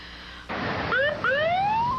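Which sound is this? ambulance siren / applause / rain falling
ambulance siren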